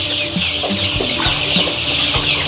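KUB chickens cluck repeatedly during vaccination, several short close clucks over a constant hiss of background noise, with no talking.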